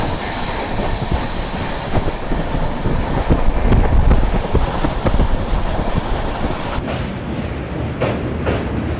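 A Duronto express train rolls along the rails between New Delhi and Jammu, a loud, steady rumble with wheel squeal and rhythmic clatter heard from on board, no talking.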